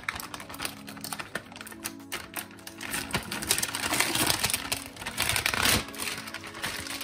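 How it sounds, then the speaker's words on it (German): Foil being unwrapped from a Lukas Podolski döner, heard as close crinkling and crackling that comes in uneven bursts and grows busier and louder toward the end. "Jetzt packen wir es noch aus. auch gleich die Folie."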